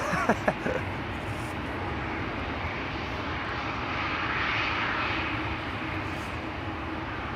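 A KLM Boeing 737-900 jet at Schiphol produces a steady, moderately distant engine roar that swells slightly midway, with a couple of brief knocks near the start.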